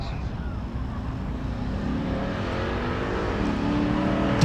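Drag race at Tulsa Raceway Park, a red Silverado in the 12.0 class against a red Chrysler in the 13.0 class: steady engine rumble building gradually as the vehicles rev, with an announcer speaking over it.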